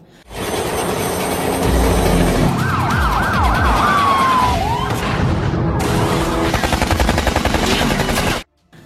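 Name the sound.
police car sirens in a film chase scene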